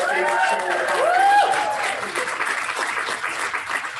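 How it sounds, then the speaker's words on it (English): An audience claps warmly as a couple is welcomed to a stage, with loud, sustained applause and a voice speaking over it. "help me give a warm round of applause to Sean and Tylene Wilmer"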